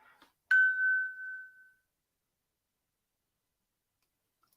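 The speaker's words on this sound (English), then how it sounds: "Sorry, my phone's pinging." A single mobile phone notification ping sounds once, a clear short chime that rings out briefly and fades, followed by silence and a faint noise at the very end.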